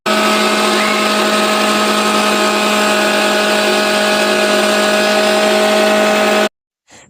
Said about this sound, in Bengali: এবারে এগুলোকে একটু ব্লেন্ড করে নেবো তাহলে চলুন ব্লেন্ডার জারে দিয়ে দিই